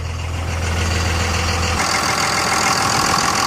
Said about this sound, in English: Underneath the hood, sounds like it did the day it came off the factory line. It sounds great, it idles smoothly.